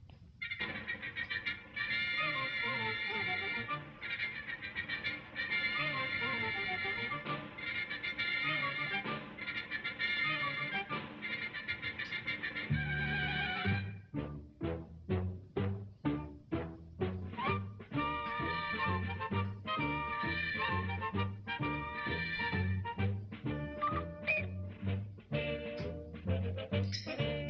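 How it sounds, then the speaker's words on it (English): An orchestra on a 1958 Lawrence Welk Christmas television special plays March of the Toys, a full sustained passage giving way to brisk, punchy staccato marching phrases, steady and somewhat distant. "So here's a teaser, children, the March of the Toys."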